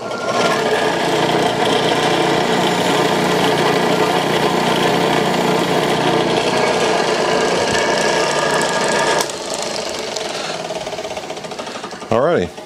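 A wavy buffing wheel polishing an old Callaway golf club head, a loud steady motor whine with rubbing hiss that shifts partway through, then spins down near the end, with someone talking over it.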